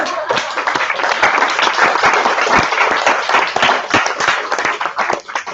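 A crowd applauds loudly and steadily, dense clapping from many hands filling the room without a break.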